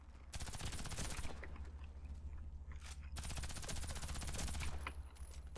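A 12-gauge shotgun fires in the Warface video game, two long loud stretches of rapid repeated blasts split by a short pause, over a steady low game rumble.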